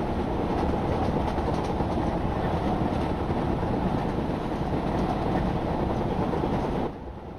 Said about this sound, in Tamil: ட்ரெயின் ஓட்டிட்டு இருக்கேன்